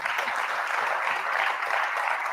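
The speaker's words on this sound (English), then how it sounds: "So y'all give yourself a round of applause" Steady applause from a theater audience at a live awards show, a dense even wash of many hands clapping together with no pauses, close and full, with only faint voices mixed in.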